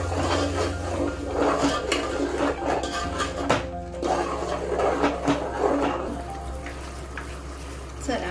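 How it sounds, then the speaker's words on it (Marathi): Tomato puree is stirred into a pav bhaji pan, with a busy run of utensil clatter and scraping over a wet, bubbling cooking sound. "आता आपण ही टोमॅटोची प्युरी टाकूया आणि याला चांगली हलवून घेऊया।"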